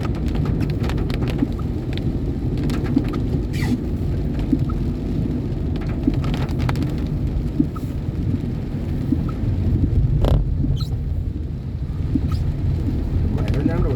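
Heavy rain pours steadily and loudly for the whole stretch, a dense continuous wash with scattered sharper drops and taps, heard from inside a vehicle.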